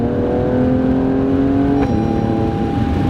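An Alfa Romeo Stelvio Quadrifoglio engine holds a steady, loud drone from inside the cabin, pitch climbing slightly before a brief shift-like break, then settling at a lower steady hum.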